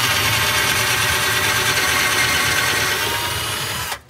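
A Black+Decker 20V Max cordless drill driver runs on its lowest torque setting, a loud, steady motor whir held close for about four seconds before it cuts off abruptly.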